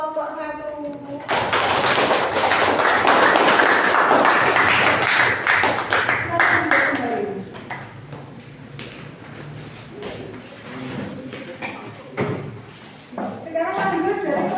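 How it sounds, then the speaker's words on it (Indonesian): Classroom applause for a student group, a dense burst of many hands clapping at close range for several seconds that fades into scattered claps and thumps, with voices talking afterward. "Kita beri apresiasi dulu, tepuk tangan untuk kelompok 1."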